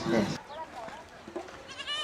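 A goat bleats several times in short, wavering cries at a market on bazaar day, fairly close, following a brief burst of noise at the start.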